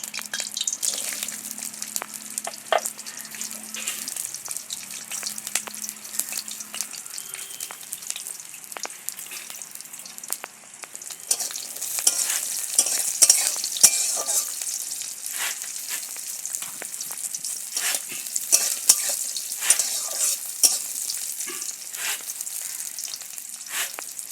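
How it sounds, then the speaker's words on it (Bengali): Cashews and raisins frying in a pan of oil while making a vegetarian dal: a steady, close sizzle with scattered crackles and pops, growing louder about halfway through, with no talking. "এবার কাজু আর কিশমিশগুলো ভেজে নেব"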